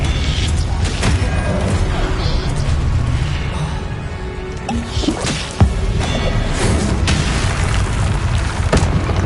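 A fire spell cast in Hogwarts Legacy, a loud whooshing burst of flame amid constant booming combat noise and clattering effects, dense and close throughout.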